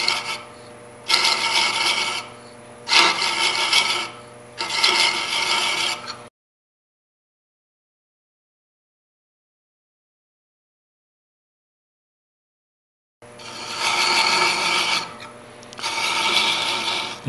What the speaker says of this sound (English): try to go all the way through with your thread chaser